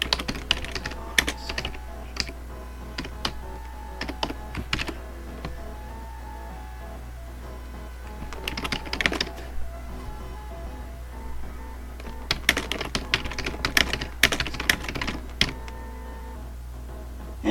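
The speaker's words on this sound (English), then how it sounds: "it's basically just typing the description as you see it" Steady typing on a computer keyboard, close and moderately loud, in uneven bursts of rapid key clicks separated by short pauses, with a constant low hum underneath and no talking.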